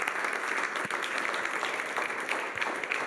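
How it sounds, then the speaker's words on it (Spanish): Church congregation applauds loudly for the Lord at a bilingual Spanish-English service, a continuous dense wash of clapping from many people with occasional sharper claps standing out. "aplauso fuerte al Señor."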